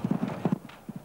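Thoroughbred two-year-olds galloping at a Magic Millions breeze-up before a sale, their hooves beating a quick, rhythmic clip-clop at moderate distance.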